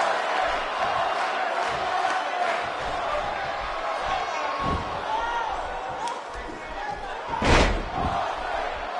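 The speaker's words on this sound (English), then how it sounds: "A lot of people applauding this superstar's bravery." A video game wrestling crowd (WWE 2K18, Steve Austin vs Singh Brothers) roars and cheers beneath an excited commentator's voice, with scattered thuds and a sharp loud impact late on.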